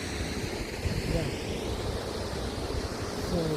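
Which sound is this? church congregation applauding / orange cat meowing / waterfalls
waterfalls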